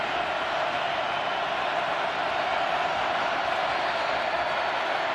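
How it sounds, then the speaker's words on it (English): A packed NFL stadium crowd at a Bengals–Chiefs game roars loudly and steadily, a dense wall of cheering with a faint voice talking underneath. "Crowd is in full throat."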